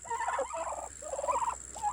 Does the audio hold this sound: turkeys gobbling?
yes